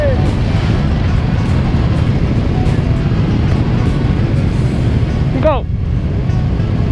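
A motorcycle pulling hard in first gear during the Distinguished Gentleman's Ride through Madrid streets, its engine a loud, continuous close roar with a rising whine near the end, amid traffic noise.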